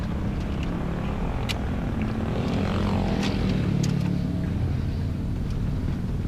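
Motorcycles pass along a concrete road on the route up to Nimo Highland in Pangalengan, a steady broadband engine rumble with a brief swelling whoosh around the middle, heard close and continuous from a moving vehicle.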